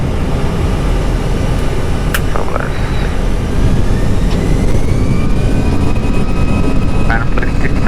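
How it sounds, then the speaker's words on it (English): Airbus A330 jet engines roar loud and steady during an early-morning takeoff from Medan, heard from the cockpit. Brief faint tones sound over the constant rumble. "Takeoff, we flew on Papa Kilo Golf Hotel Foxtrot, Airbus 330"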